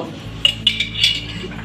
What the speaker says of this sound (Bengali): এইভাবে নাড়তে থাকবো আমি